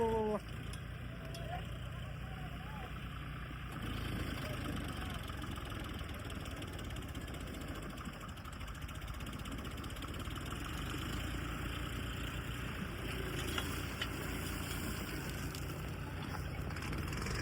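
A new Sonalika 5042D tractor, about a month old, runs with a steady low engine drone and a continuous broadband hum, moderately loud and unbroken for the whole stretch, with faint background voices.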